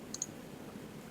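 Computer mouse clicks while downloading a license file: two quick faint clicks close together, then a single click about a second later, over quiet room hum.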